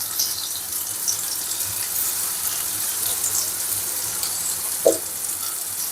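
Chicken pieces dropped into a pan with a little oil give a steady, quiet sizzle and frying crackle throughout, with one brief clink or stir near the end.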